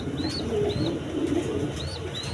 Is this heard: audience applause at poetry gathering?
no